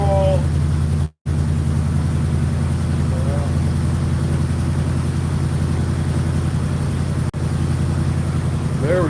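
A 1972 Ford Highboy truck engine runs at a low, steady idle with a throbbing rumble, interrupted by a brief dropout early on; faint talk sits over it now and then.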